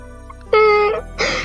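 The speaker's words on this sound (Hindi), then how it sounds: "उसे बच्चे के रोने की आवाज सुनाई दी" A child wails at night in a forest, two sustained tonal cries with a brief break between them, fairly close and loud, with no talk over them.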